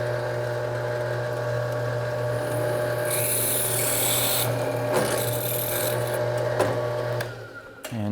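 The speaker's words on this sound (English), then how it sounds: "We're going to drill through." A drill press bores through an aluminum workpiece, a steady loud motor hum with a grinding, rasping cut that grows harsher midway before the machine winds down at the end.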